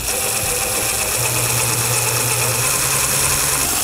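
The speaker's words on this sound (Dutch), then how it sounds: "Nou weet ek nie of hierdie materiaal hierdie 8 mm boor gaan vat nie." An 8 mm bit drilling slowly into a sheet of material, a steady loud motor whine with a low hum running throughout, no voices.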